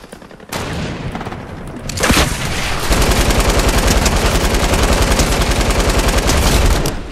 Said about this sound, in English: Got him with an LMG from 81 meters.